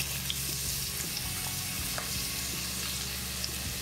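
Onions sautéing in a saucepan for a fondue base, a steady low sizzle throughout with a few faint ticks and stirring touches, close and even, no talk.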